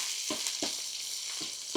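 Tadka tempering sizzles steadily in hot ghee while cooking a Rajasthani chana dal pyaz, with a continuous close frying hiss broken by four soft knocks of stirring.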